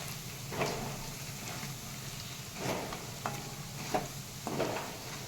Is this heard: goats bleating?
no